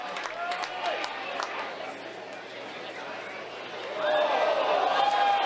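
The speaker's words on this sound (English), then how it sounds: "Crowd here at Wilson's Group Stadium starting to react." A baseball crowd at Wilson's Group Stadium reacts with a rising murmur of chatter and scattered cheering that swells louder near the end, under a commentator's voice.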